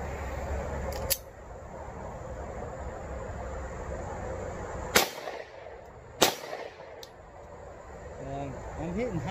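Handgun shots fired with a ProMag magazine at an outdoor range ring out as three sharp, loud reports spaced a few seconds apart over a quiet background.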